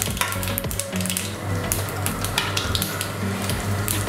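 Red chillies sizzle and crackle in hot oil in a pan for a Karnataka-style puliyogare, a steady loud frying hiss throughout with faint scrapes of stirring.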